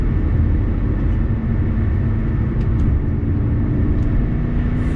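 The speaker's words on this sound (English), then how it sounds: "Just listen to that, guys. It's a V10 power plant, the first and last V10 in an M car, in an M5." BMW E60 M5 with its V10 engine driving, a steady deep drone of engine and road noise held loud and constant throughout.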